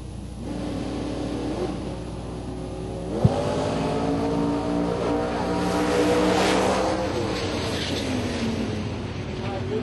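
Drag racing cars, including a Corvette, at a bracket race, loud engine roar with a sharp crack near the start, revving rising and falling over steady track noise while an announcer talks.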